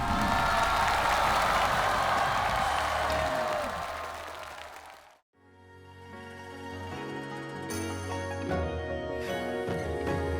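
Loud audience applause and cheering welcome a singer onto the stage of a televised singing competition, a dense roar filling the first half before it drops away and music begins.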